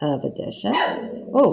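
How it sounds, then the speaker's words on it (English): A dog barks sharply several times at close range, interrupting a person speaking during a math lesson. "that was my dog. Scared me."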